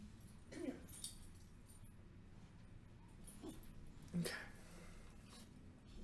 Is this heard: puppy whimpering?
yes